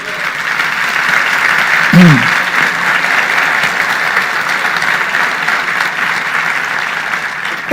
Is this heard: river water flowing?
no